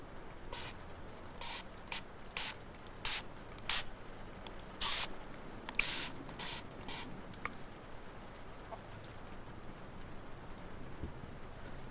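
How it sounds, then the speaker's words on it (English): Spray bottle misting in short bursts, about a dozen quick hissing puffs spaced irregularly, close and soft, during a pillow fort ASMR session, with faint background hiss and no talking. "Would you like to get sprayed?"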